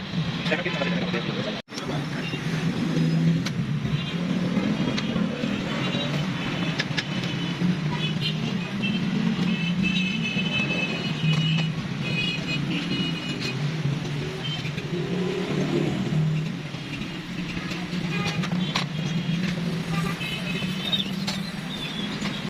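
A 2022 Proton Saga drives away from a workshop after repair, its engine giving a steady, continuous road drone at moderate loudness, with a voice heard over it at times.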